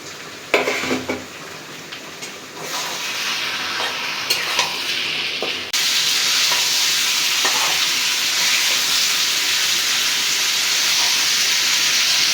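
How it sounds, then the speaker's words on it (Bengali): Small cubed fresh fish frying in oil with tomato, green chillies and spices: a steady, loud sizzle close by, with a few stirring clatters early on before the sizzling settles into a continuous hiss. "এভাবে কিছুক্ষণ তেলের উপরে আমি মাছটা ভেজে নিচ্ছি"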